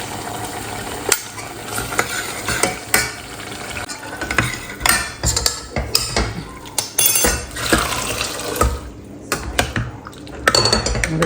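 Chole with garam masala is mixed in a pan, with a spoon repeatedly clanking and scraping against the metal in a busy, close, uneven rhythm.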